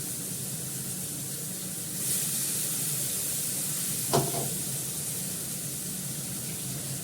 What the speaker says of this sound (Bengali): হালকা করে একটু জল দিয়ে তো ধুয়ে দেবো।